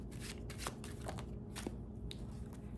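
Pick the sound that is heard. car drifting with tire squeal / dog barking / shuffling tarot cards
shuffling tarot cards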